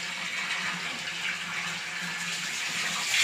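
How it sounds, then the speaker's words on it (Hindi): Tap water runs steadily into small household vessels, a continuous hissing splash that stays even and close, growing slightly louder at the very end, with no one speaking. "छोटे छोटे बर्तन भी भर लूं।"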